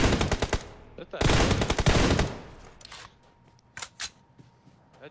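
Video game gunfire fills the first seconds with dense rapid automatic bursts, loud and close, followed by a few scattered single shots after a pause.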